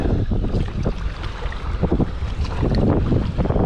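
A boat is paddled on the sea near Richmond Island, with strong wind buffeting the microphone and water sloshing steadily throughout, loud and close.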